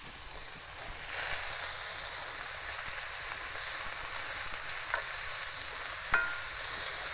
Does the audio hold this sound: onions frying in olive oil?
yes